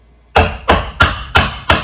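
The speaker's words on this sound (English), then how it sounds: "I'm gonna try and hammer this thing down in here." Five sharp, evenly spaced hammer blows drive a copper pipe down into garden soil, each a loud close thud with a brief ringing decay, with no voices.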